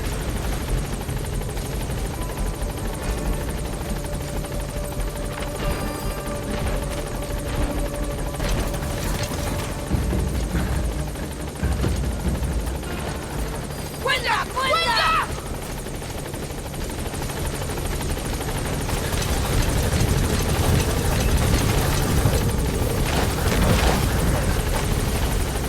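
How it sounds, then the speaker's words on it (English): A support helicopter arrives in Metal Gear Solid V, its rotor thrumming loudly and continuously and swelling nearer toward the end, with brief game effects over the top and no talking. "Support helicopter has arrived."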